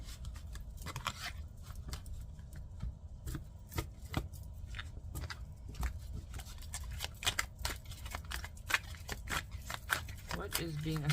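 A Gilded Tarot deck is shuffled by hand in a steady run of soft papery riffles and card slaps, quiet and close, with a speaking voice over it.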